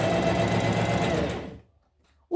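A domestic sewing machine stitches fabric with a rapid, steady mechanical whir for about a second and a half, then stops abruptly, leaving near silence before a brief click at the end.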